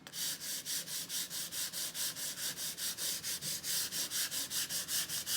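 Sandpaper rubbing over a painted wooden farmhouse sign to distress it, about two dozen quick, even back-and-forth strokes in a steady rhythm, close and clear with no talking.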